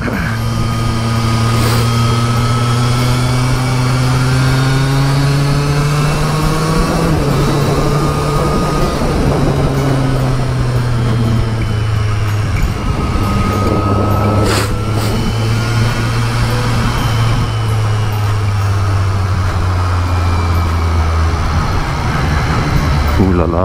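A 2023 Triumph Street Triple 765RS engine drones loudly and steadily while riding, its pitch sliding up and down with the throttle through gear changes, with wind rush across the whole stretch.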